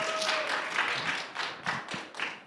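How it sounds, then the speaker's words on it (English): Audience applause at an art fair discussion, a close, busy patter of many hands that rises and then thins toward the end, with no talk over it. "First, make an applause to Rafael Domenech."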